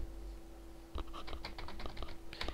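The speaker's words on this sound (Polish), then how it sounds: "Popukam se w klawiaturę." Soft, scattered clicks of a computer keyboard being tapped during a gaming session, faint and irregular, with no voices.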